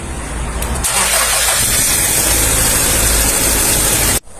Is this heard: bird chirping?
no